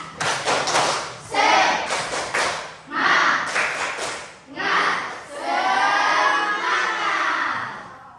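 An Indonesian school class performs a rhythmic spirit clap in the classroom, with bursts of group claps separated by brief pauses and voices chanting along over them.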